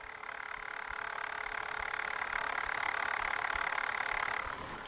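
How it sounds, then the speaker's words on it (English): The tape motor of a Sony Walkman WM-702 whirs as a steady, faint mechanical hum for several seconds and then fades out at the end, with no voices. "So you can hear it whirring."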